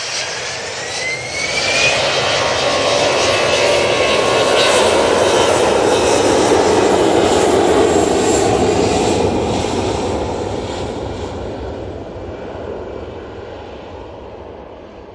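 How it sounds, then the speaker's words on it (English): An EasyJet airliner departs Manchester Airport bound for Pisa, its loud jet roar building over the first seconds, holding at full strength, then slowly fading as it climbs away. "it's EasyJet off to Pisa."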